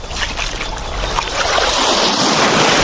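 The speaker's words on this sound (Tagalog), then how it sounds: "Tsaka meron ng mga alon ngayon" Sea waves wash in close and loud along the shore, a broad rushing surge that builds and stays full through the end, with some wind.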